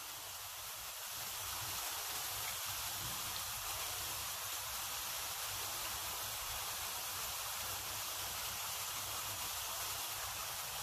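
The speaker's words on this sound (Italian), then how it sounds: "Guardate le bolle che si creano immediatamente." Thin frappe carnival pastries bubbling vigorously in hot peanut oil at 170 degrees, a dense, continuous crackling sizzle like heavy rain, steady and close throughout, with no voices.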